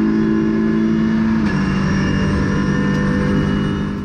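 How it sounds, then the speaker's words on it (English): Onboard an Audi RS3 LMS TCR race car at Motorland Aragón, the engine drones loud and steady, and its pitch drops partway through as the car brakes hard into the hairpin. "That's here, hard braking."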